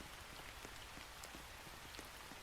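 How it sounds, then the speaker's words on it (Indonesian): Steady rain patters on surfaces in an even, continuous hiss with scattered droplet taps, soft and low in level, with no talking. "Lagi hujan, bos."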